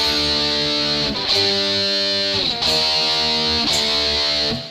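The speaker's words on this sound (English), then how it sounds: "so I get the direct distortion tone." Stratocaster electric guitar played through a gated direct distortion tone on a TSX30, sustained crunchy chords changing about every second and a quarter, loud and close with no talk.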